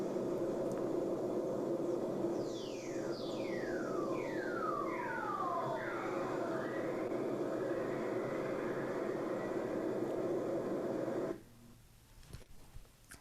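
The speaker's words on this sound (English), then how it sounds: "that was an excellent recording of whistlers" Radio-received whistlers from lightning-induced electromagnetic impulses: several descending swooping tones glide down one after another over a steady hiss of static, then the noise drops away near the end.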